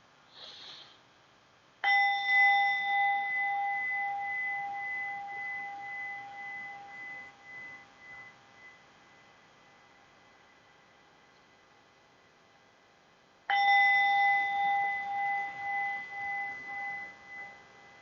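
A meditation bell rings twice, each clear tone lingering and slowly fading over several seconds, with quiet stillness between strikes.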